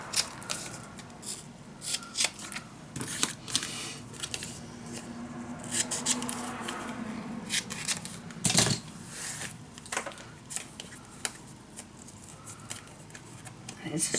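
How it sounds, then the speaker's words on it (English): Scissors snipping the corner of paper for a steampunk dos-a-dos mini album, a series of short crisp cuts and rustles, close by, with a person talking between them. "Let me first cut the corner."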